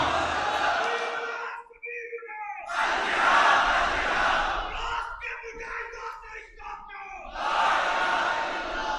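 Rally crowd at a national conference shouting slogans in loud, rising bursts that swell, drop out briefly, then return full and close, alone without other talk.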